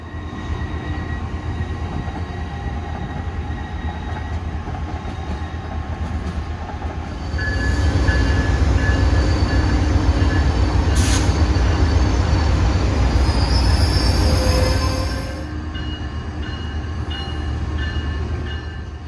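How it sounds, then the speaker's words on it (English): An Amtrak Pacific Surfliner pulls out of Los Angeles Union Station with a steady rolling rumble that swells as the cars pass close by, joined by brief high squeals and a short horn-like tone. "Here we can see an Amtrak Pacific Surfliner departing from Los Angeles to head"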